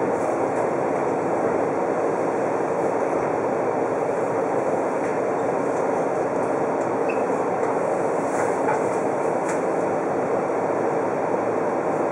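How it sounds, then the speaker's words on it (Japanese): A Seibu Chichibu Line train departs after its doors close, rumbling steadily on the rails with a constant broad roar, close and loud throughout, with no voices. "ドアが閉まります。"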